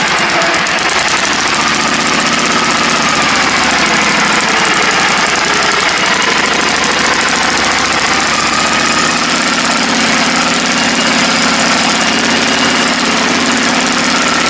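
A restored engine, freshly running after a carburetor rebuild and nearly a year of sitting unused, roars loudly and steadily for the whole stretch with a low rumbling vibration and no talking.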